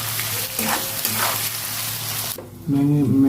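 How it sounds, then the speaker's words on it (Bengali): Chopped onion with whole garam masala spices and green chillies sizzling in hot oil for a Bengali mutton curry, a steady close fry with stirring scrapes, ending in a louder burst of sizzle. "তেলের উপরে দুটো গরম মশলা দেবো গোটা, দুটো কাঁচা লঙ্কা, পেঁয়াজ কুচি দিয়ে দেবো, লবণ দিয়ে দেবো, ভালো করে পেঁয়াজটা ভেজে নেবো"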